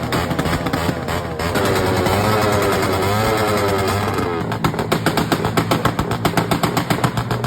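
A custom Suzuki motorcycle with a CNC head and block, converted to fuel injection with a CNC dual throttle, revs loudly up close at a motor show, its engine rising, holding, then crackling in rapid pops as the throttle is blipped.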